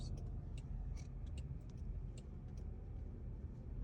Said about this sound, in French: ça c'est le copain à côté qui accélère comme un cacou